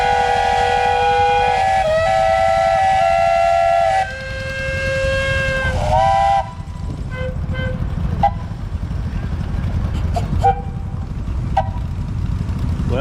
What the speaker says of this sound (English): that means it's straight up 12 o'clock noon. The noon whistle.